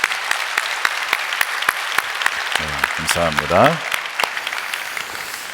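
Church congregation applauding during a Friday worship service, steady rhythmic clapping throughout with a brief spoken phrase partway through.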